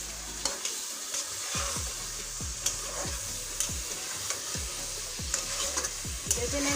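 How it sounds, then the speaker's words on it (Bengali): Chicken pieces stir-fry in a hot pan with a steady, loud sizzle, while a spoon scrapes and stirs in repeated strokes throughout; no one speaks. "পুরো মাংসটা এখানে দিয়ে দিলাম। এখন সুন্দর করে এটাকে কষিয়ে নেব।"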